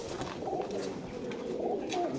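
Soft, rolling coos from pigeons kept by a bird keeper sound repeatedly at close range over a low background hum, with no talking.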